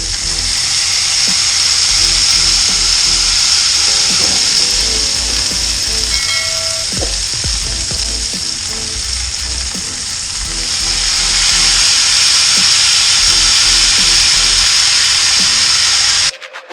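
Smash burgers sizzle loudly and steadily on a Slow N Sear kettle grill, a constant close frying hiss with occasional faint scrapes and clinks beneath it.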